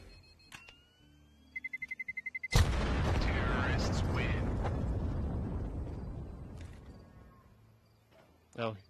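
A bomb detonates in the Counter-Strike 2 video game: a quick run of sharp electronic beeps leads into a sudden, loud blast with a long, rumbling decay that fades over several seconds.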